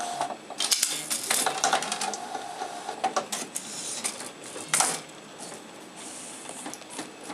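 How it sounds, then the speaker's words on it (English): A Primera Bravo 4100 disc printer at work on a disc: close, busy mechanical whirring and rapid clattering ticks of the print carriage, irregular bursts over a low motor hum, with no one talking. "We'll print one copy. Hit print. And watch it work."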